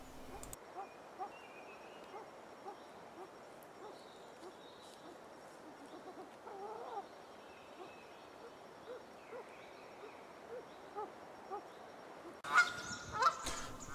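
Canada geese on a lake give scattered honks and calls against a quiet outdoor background, mostly faint and distant, with a louder burst of honking near the end.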